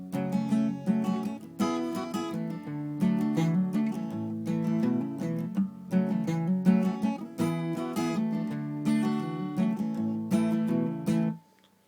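An acoustic guitar plays a song, with strummed and picked chords, hammer-ons and a bass line walking down the neck in a steady rhythm. It is moderately loud and close, with no talking, and it stops abruptly at the end.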